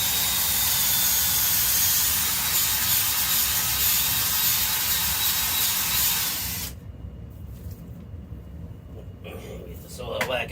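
A small hand-held powered auger bores into garden soil, a loud steady broadband whir and grind running for about seven seconds before cutting off abruptly, leaving quiet rustling and faint handling noises.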